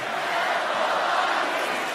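A sold-out wrestling arena crowd roars as a continuous, dense wash of cheering, steady and loud for the whole moment.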